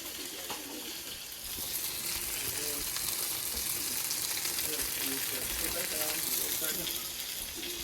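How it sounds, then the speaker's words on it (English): Food sears in a hot pan with a continuous loud sizzle and some stirring. Faint voices and background sounds sit underneath it. "And then we're going to sear it in the pan."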